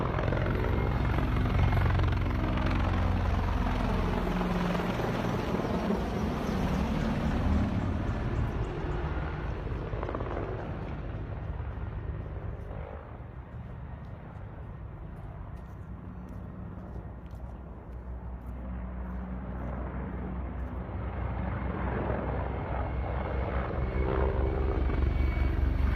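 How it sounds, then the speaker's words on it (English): A Mi-24 military helicopter on patrol drones overhead for the whole stretch, its rotor thrum loud at first, easing slightly as it passes, then swelling again. "we can see an Mi-24 on patrol here"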